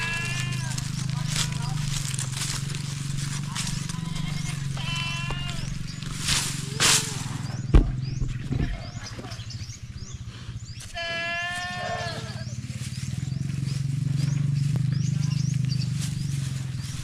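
Goats bleat on a farm, several loud, wavering calls from near and farther off over a steady low hum, with people talking at times.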